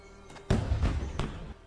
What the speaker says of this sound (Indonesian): suara tembakan itu berasal dari rumah keluarga konglomerat Kang O Group